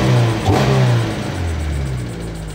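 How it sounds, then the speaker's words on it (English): A car engine, just after a lifter adjustment, revs up loudly and then eases back to a lower, steady running note. The sound is close and heard alone, without voices. "Rev it a little bit."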